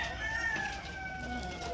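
Chickens cluck softly in a steady farmyard background of mixed bird chatter, fairly faint and continuous with no talk over them.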